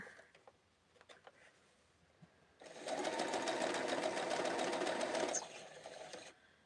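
Sewing machine stitching red, white and blue quilt blocks: a steady, loud burst of rapid needle chatter for a few seconds, preceded by quiet handling clicks and trailing off into softer fabric rustle.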